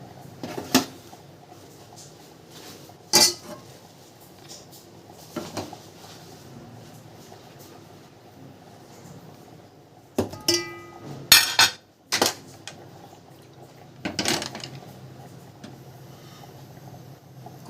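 In a home kitchen a pressure cooker of dal is set on the stove after tea, with a series of sharp metallic clanks and knocks of pots and lids spaced across a quiet room, several close clattering bursts clustered near the middle.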